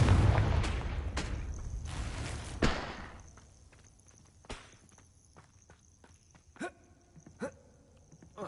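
A Confringo blasting spell explodes in the game Hogwarts Legacy with a loud burst and a booming rumble at the outset. Sharp impacts and clattering thuds follow, fading into scattered fainter hits.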